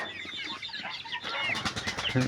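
Laying hens in a home garden cluck and squawk close by, a quick run of short, rising calls with a scuffle of movement toward the end.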